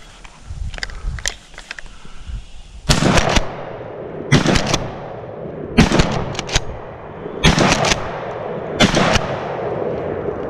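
Five loud, sharp shotgun blasts from a short-barrel shotgun, spaced roughly a second and a half apart, each ringing off with a brief decay after some quieter handling noise at the start.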